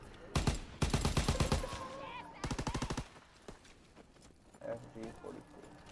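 Rapid bursts of FG42 automatic rifle fire in Call of Duty: World War 2, three close strings of fast shots separated by brief pauses, followed by quieter game sounds and a voice.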